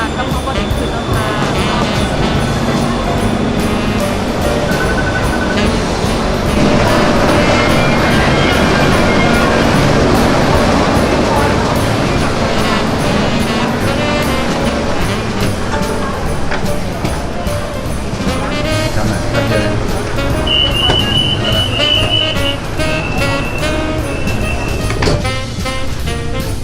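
A train rolls past nearby in Bangkok with a continuous rumbling clatter of wheels on track, steady and loud throughout, with a brief high squeal later.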